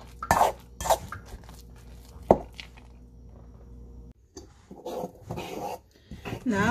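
Chocolate vegetable cake batter being mixed in a bowl, with a few sharp scrapes and knocks of the utensil against the dish early on, a quieter stretch, then more scraping and clinking near the end.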